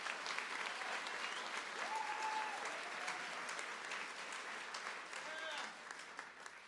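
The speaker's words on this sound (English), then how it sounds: "So can we give a round of applause to our ISP staff?" A graduation ceremony crowd applauds school staff, giving steady, fairly distant clapping that fills the space with a few faint whistles and voices woven through it.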